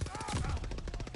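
Rapid automatic gunfire in a video game, a steady stream of close, loud shots lasting about a second with no pauses.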